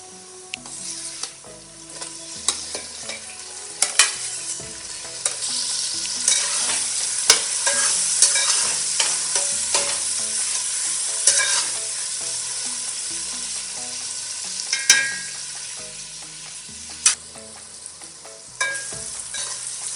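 Onion and tomato sauté in a pan for mutton biryani. A close, steady sizzle is broken by repeated scraping stirs and clinks of a spoon against the pan, with no talking.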